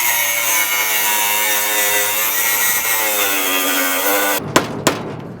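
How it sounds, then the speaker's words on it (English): Angle grinder cutting through rusted-out bumper bolts on an old Ford Falcon project car left sitting in a field for years, a loud steady high-pitched grind that runs continuously, then breaks off into a few sharp clanks near the end. "So we're just going to grind the bolts that hold the bumper on off."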